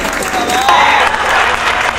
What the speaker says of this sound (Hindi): तालियां का उत्सव हो जाना चाहिए।